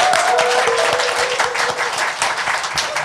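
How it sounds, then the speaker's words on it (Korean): A studio audience at a Korean current-affairs talk show gives dense, steady applause that stays loud and continuous for the whole three seconds. "여러분의 힘찬 박수와 함께 시작하겠습니다"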